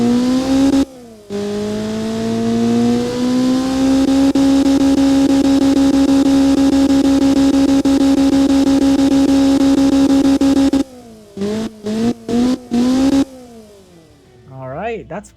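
A classic Honda Civic with a VTEC engine revs hard, one long rising and holding engine note, then a run of short sharp blips of the throttle near the end, loud and close.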